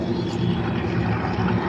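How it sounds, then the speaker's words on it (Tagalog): Heavy diesel tugboat motor labouring as it pushes two barges along the Pasig River under a bridge, a dense continuous low rumble with throbbing harmonics, loud and steady throughout. "Kanina medyo nagtrabaho talaga yung motor ng tugboat."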